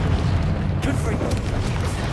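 A Confringo blasting spell explodes in Hogwarts Legacy, a dense, continuous low booming roar with crackling debris, loud and close throughout, with a faint voice under the blast.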